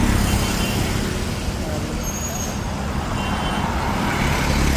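Steady broadband road traffic rumble from inside a Bharat Benz business-class bus on the Indore–Pune route, continuous low engine and road noise throughout without clear individual events.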